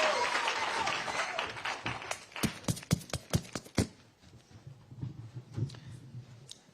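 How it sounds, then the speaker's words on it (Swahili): Audience applause at a public event breaks out in loud, close, individual claps in a rapid run. It then thins to scattered, fainter clapping with a low murmur of voices underneath. "Pigeni makofi ya kutosha."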